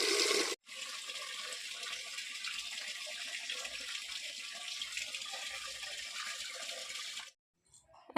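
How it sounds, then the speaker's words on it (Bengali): Water runs steadily from a tap into a cooking pot and a bucket, a continuous close splashing stream lasting several seconds before cutting off abruptly, with no talking. "এক হাঁড়ি আর এক বালতি জল তুলে রাখলাম"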